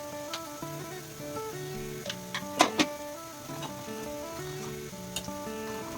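Drumstick leaf sambar bubbles in a pot, making a soft, steady simmer with scattered faint ticks and pops and a couple of louder clicks midway, and no voices.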